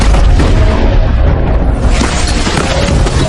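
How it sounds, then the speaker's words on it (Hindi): A loud explosion booms through a cemetery, a heavy rumbling blast that fills the whole moment with dense, roaring low-end noise and debris-like crackle, no voices present. "एक पल बाद कब्रिस्तान में धमाका हो गया।"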